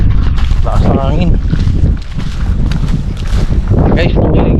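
Gusty wind rumbles against the microphone on a farm while a person talks nearby in Filipino, the buffeting rising and falling throughout.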